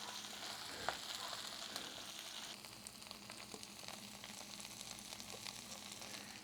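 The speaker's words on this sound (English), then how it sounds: "that's the frying part. That's how we know that they're frying." Steady, dense sizzling of collard greens frying in a hot pan, a continuous crackling hiss with small pops throughout.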